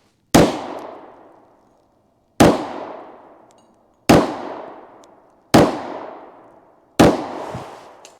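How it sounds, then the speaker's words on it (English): Sig Sauer P220 10mm pistol fired five times at BulletSafe VP3 body armor outdoors, each shot a sharp, loud crack with a ringing tail, spaced roughly one and a half seconds apart, with no talk. "All right, so we got the Sig Sauer P220 10mm here. I'm gonna shoot this one on the left side."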